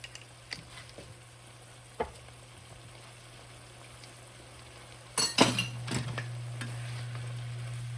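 Chow mein noodles stirred with oyster sauce in a pan for tandoori chicken chow mein, giving a steady low sizzle under a constant hum, with a few utensil clinks and a louder scraping burst near the end.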